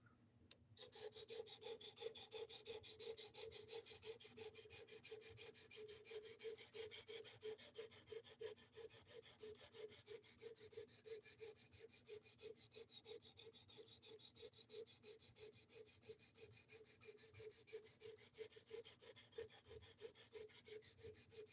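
A knife being sharpened with long, steady rhythmic strokes, a continuous faint rasping scrape repeating evenly without a break.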